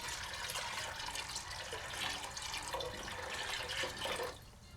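Water pours steadily from a kitchen tap into a soup pot, a continuous close splashing stream that stops abruptly near the end.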